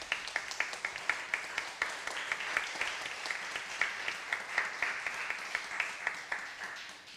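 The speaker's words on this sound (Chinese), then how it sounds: "我们再一次用我们的掌声来谢谢喜恩合唱团。" A church congregation at a Sunday worship service applauds a choir, producing sustained crowd clapping with sharp individual claps standing out, moderately loud and continuous.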